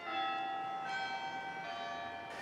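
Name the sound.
carillon bells ringing at Grace Cathedral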